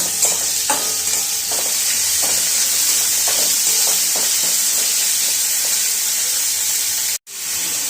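Small pieces of chopped chicken fry in a pan for bread chicken rolls, giving a loud, steady sizzle close by. Stirring adds soft scrapes and clicks, and the sound cuts out briefly near the end.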